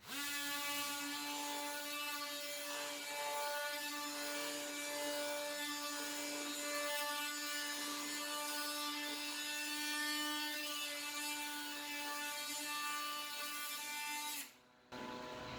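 A battery-powered Ryobi cordless detail sander with coarse sandpaper works on wood, giving a continuous close, loud buzzing whine with a rasping edge that cuts off abruptly near the end.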